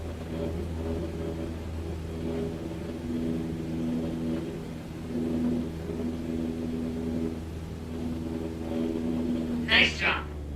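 A simulated light aircraft engine in Microsoft Flight Simulator, throttled back to 2300 RPM, drones as a steady harmonic hum with low rumble throughout, ending in a brief whooshing burst near the end.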